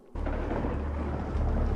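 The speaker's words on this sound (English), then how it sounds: "Just a storm." A thunderstorm sets in with a sudden onset and a dense, rumbling roar that sustains loudly with a deep low rolling swell toward the end.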